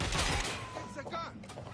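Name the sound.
gunfire in the video game Watch Dogs: Legion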